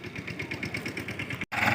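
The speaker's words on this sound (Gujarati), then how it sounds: "ચાલુ કરી દીધું ટ્રેક્ટર અને આજે પાછું ચાલુ કરી દીધું હે વાવેતર મકાઈનું" Tractor engine running at a village farm for maize sowing, a close, rough rhythmic chug with fast pulsing knocks, briefly cut off near the end before resuming.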